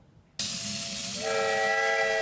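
Train at the Shady Dell Train Park in Molalla, Oregon, bursting in with a loud hiss of steam, then a sustained steam whistle joins, holding steady and close to the end.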